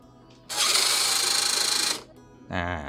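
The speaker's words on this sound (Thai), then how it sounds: "ครับแอร์เบรกทำงานปกตินะครับ" Air brake actuator on a large RC F-15 model jet with a 90mm ducted fan and one-metre wingspan gives a loud, buzzing mechanical whir lasting about a second and a half. A brief voiced sound follows.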